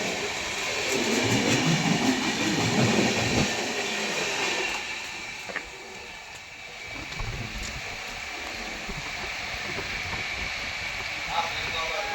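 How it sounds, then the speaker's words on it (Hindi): Maharashtra Sampark Kranti Express passing on the Prayagraj–Delhi route, a steady loud rumble of rolling wagons with clattering wheels that swells and fades slightly, a voice speaking over it in places. "महाराष्ट्र संपर्क क्रांति एक्सप्रेस ने ओवरटेक किया आपने"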